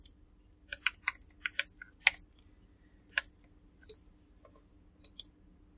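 A password is typed on a computer keyboard, with soft, irregular key clicks in short bursts and gaps, close but quiet against a faint low hum, with no talking.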